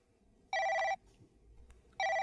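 An iPhone rings from inside a pocket in two bright electronic tone bursts, each about half a second, with a short quiet gap between, moderately close.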